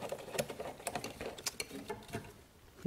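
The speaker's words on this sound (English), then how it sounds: "we need to loosen a couple of clamps here" Hose clamps being loosened around the mass airflow sensor on a GM 3100 engine, heard as scattered close light clicks, taps and small scrapes with no talking.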